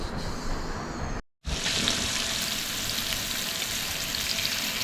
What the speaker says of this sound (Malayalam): ചെമ്മീൻ ഫ്രൈ ഉണ്ടാക്കാൻ വെച്ചു